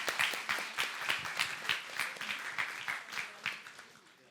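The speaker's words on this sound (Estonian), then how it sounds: "teeme aplausi meie kahele tuttavale." Applause from a small audience at an education event, with rhythmic, fairly close claps in a loose pulse that gradually softens.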